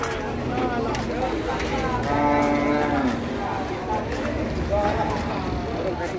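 Angus cattle moo several times, long drawn-out calls rising over a busy, noisy background with voices and bustle at a crowded livestock market in Masbagik, Lombok, Indonesia.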